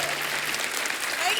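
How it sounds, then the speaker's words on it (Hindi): Clapping from a studio audience at a Hindi TV comedy talk show, a broad, even wash of applause sustained for the whole short stretch. "जोरदार तालियां"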